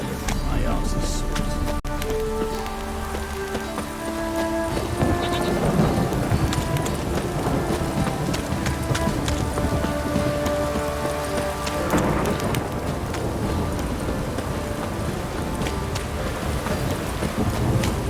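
Steady, heavy rain pours down in The Witcher 3, with low rolls of thunder, under voiced character dialogue throughout.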